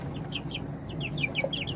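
Chickens cluck in a quick series of short, nasal calls over a steady low background murmur, close and moderately loud, with one sharper call near the end.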